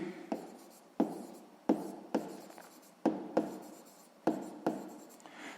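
Pen strokes scratch across paper while a sixth-grade math solution is written out, with about nine distinct strokes that each start sharply and fade, arriving in a fairly steady rhythm close up.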